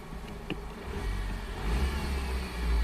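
A flood-damaged Ford Focus with a dual clutch transmission idles and revs moderately in reverse without moving, a low engine rumble swelling toward the end with a brief clack near the start.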